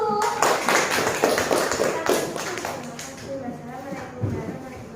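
Schoolchildren in a classroom clapping their hands together in a loose rhythm, a burst of sharp claps that thins out and fades to scattered taps, with voices talking afterward.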